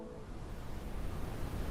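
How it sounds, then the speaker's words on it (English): Brown noise: steady, low-weighted rushing noise with a deep, soft hiss, continuous and even throughout. "we're going to have some brown noise for this piece."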